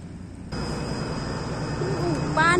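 A boat moving on water in Hiroshima, Japan, gives off a steady, loud engine drone that starts abruptly about half a second in and holds, swelling slightly toward the end.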